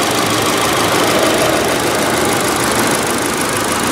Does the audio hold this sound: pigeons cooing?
no